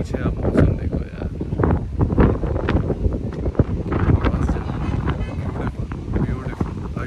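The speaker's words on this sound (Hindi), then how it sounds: "क्या मस्त हवा चल रही है" Strong outdoor wind roars steadily into the microphone, loud and continuous, during a road trip on the Delhi–Mumbai Expressway in an MG Hector Plus.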